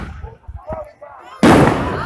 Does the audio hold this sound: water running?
no